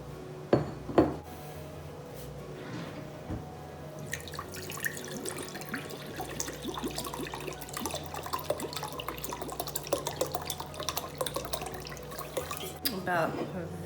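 Water from a tap runs into an 18-ounce mug in a home kitchen, a light splashing trickle with a couple of sharp clinks at the start, fairly quiet overall.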